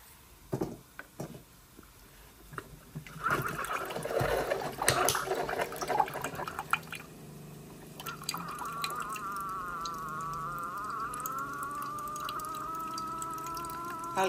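Coffee being made in a home kitchen: liquid pours and drips with small splashes, followed by a steady, even trickle of filling that runs on for several seconds at moderate volume, with no talking.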